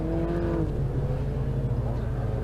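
A Mazda MX-5 race car's engine drones loudly and steadily through a track session, a sustained tonal whine holding through the short stretch with a busy, continuous rumble beneath.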